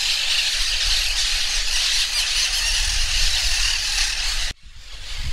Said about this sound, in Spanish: No sé si alcanzan a escuchar las cotorras. Impresionante el griterío.